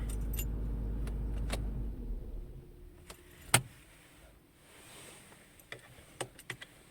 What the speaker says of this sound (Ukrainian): І тепер глушимо машину, перевіряємо.